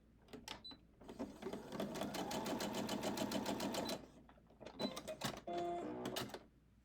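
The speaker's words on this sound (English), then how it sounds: "I'm going to sew this bottom piece onto here" A home sewing machine stitches quilt block fabric pieces, running in short rapid bursts with a long steady run in the middle, its needle clatter close and clear.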